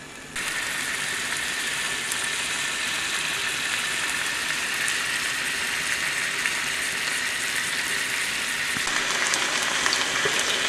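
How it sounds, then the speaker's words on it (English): Rabbit legs fry in a hot pan with a steady, dense crackling sizzle that starts abruptly and holds loud and even to the end, with no voices. "I'm just going to throw the legs on now"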